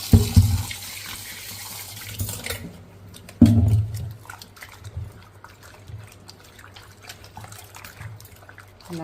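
Chopped mutton head meat mixed with turmeric is washed in water. Close splashing and pouring come in uneven bursts, loudest near the start, with trickles and sloshing between them.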